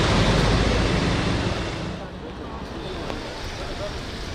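Floodwaters surging in Nepal, a loud roaring wash of waves mixed with wind buffeting, strongest at first and then easing to a steadier rumble.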